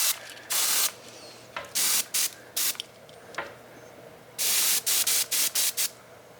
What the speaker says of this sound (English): I'm just gonna spray the rest of this stuff out.